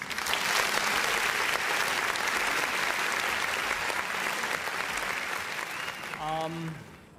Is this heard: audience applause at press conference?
yes